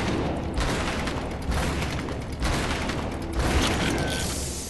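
Lumberjack gun firing at its default rate in Guns of Icarus Online, heavy booming shots spaced about a second apart with ratcheting mechanical clanks between them, loud and close.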